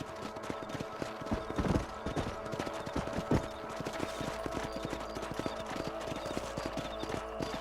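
Horse hooves clip-clop steadily while riding in the game Red Dead Redemption, a quick continuous trotting rhythm over a dense bed of ambient game sound, with a couple of louder thumps early on.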